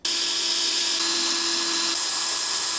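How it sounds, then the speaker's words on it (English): A hole saw cuts into steel during a DIY heavy-duty bumper-pull trailer build, a steady close high-pitched whine held loud and even for nearly three seconds with no talk. "Do it pretty quick with a hole saw."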